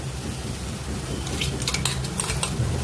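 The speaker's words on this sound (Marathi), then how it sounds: "याला थोडं परतून घेऊयात 2 मिनिटं" Ground masala paste sautéed with onions in a pan for a Maharashtrian gavar bhaji, with metal spoon clinks and scraping against the pan over a low steady hiss.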